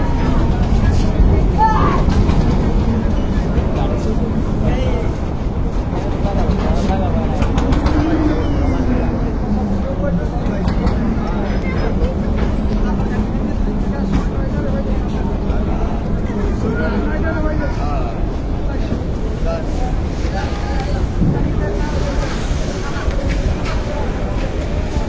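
A Parabat 11 passenger launch departs the Barisal launch ghat, its engine a loud, steady low rumble throughout, with people talking over it.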